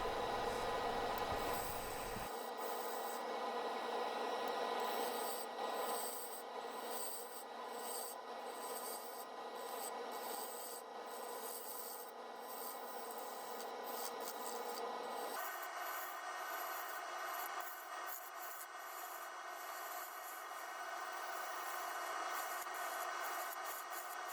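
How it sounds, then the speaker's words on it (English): Wood on a lathe being hollowed into a bowl, a steady close rasping scrape of the tool against the spinning blank that runs the whole time under a constant machine hum. "So starting the hollowing process here."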